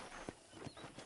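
Horse hoofbeats while riding in the Red Dead Redemption video game, a few quick clip-clops under a dense game soundscape, brief and fairly faint.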